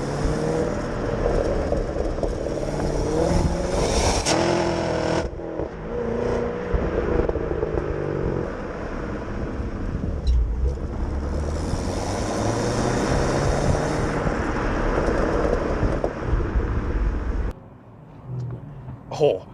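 A Vauxhall VXR8 GTS-R with a 6.2-litre 595-horsepower engine revs loudly, its pitch climbing and falling through several pulls with a brief dip partway, before cutting off near the end.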